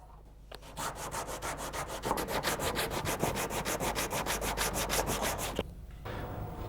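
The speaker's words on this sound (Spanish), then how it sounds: "Esta tarea se convierte en una paciente labor de formón y lija." Sandpaper rubs back and forth across wood in quick, even strokes during handmade clavichord building, a steady rhythmic scratching that stops abruptly near the end.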